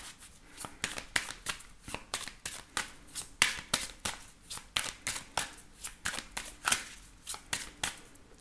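Oracle cards shuffled by hand during a French card reading, a close run of crisp riffling bursts repeating about twice a second, steady throughout with no voice over it.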